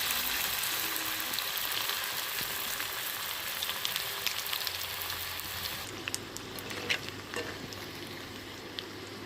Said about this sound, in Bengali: তো এরকম করে পকোড়াগুলো আমি ভেজে নিচ্ছি